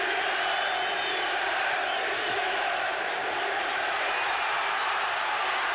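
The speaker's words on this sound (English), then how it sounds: "The crowd trying to lift McDonnell." Arena crowd at a WBC 130lb title boxing bout between Azumah Nelson and Jim McDonnell roars steadily, a dense sustained wall of cheering and shouting that stays loud throughout with no break.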